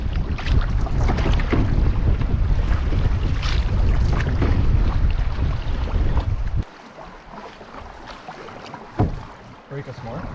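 Canoe paddling on the Moose River in the backcountry: paddle strokes splash and water sloshes against the hull, with wind buffeting the microphone throughout. The noise drops off sharply partway through, leaving quieter water sounds and one more splash.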